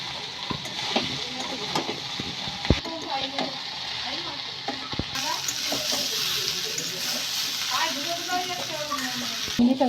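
Pointed gourd, okra and potato frying in a pan, with a constant sizzle, sharp clicks and scrapes of stirring utensils against the pan, and a voice speaking faintly in the background.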